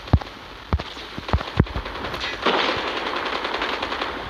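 Rapid bursts of automatic gunfire and single shots in the mobile game Call of Duty Mobile, with a short run of separate cracks followed by a denser, sustained volley, moderately loud, with no talking.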